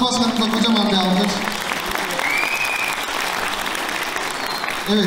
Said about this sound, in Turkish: Ziraat Odası Başkanı kocaman bir alkış